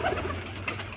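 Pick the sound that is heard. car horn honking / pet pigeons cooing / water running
pet pigeons cooing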